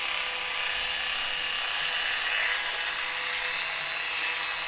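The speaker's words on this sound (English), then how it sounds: "Now to polish the inside of the ring and give it that finish, I'm using a 175 super finish wax" A rotary polishing tool works 175 super finish wax around the inside of a silver coin ring, giving a constant high-pitched whirring hiss, close and even, with no talk.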